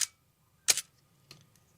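A Canon AE-1 Program film camera fires its shutter twice in a quiet room, each release a sharp mechanical clack with a brief whirring tail, the first louder and the second softer, with a faint click at the very start.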